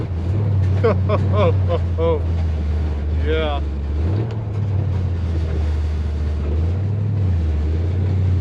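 A Chevrolet Nova with a freshly installed 383 stroker engine on its first drive gives off a loud, steady low drone that swells and eases with the throttle, with a brief voice near the start.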